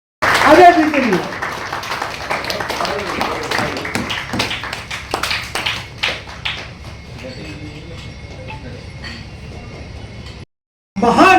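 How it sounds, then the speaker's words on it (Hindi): An audience at a cricket academy event bursts into a brief patter of hand claps honoring a guest, while a voice talks over and after the clapping. "आपकी तालियां बस दे दीजिए अजय जी के लिए।"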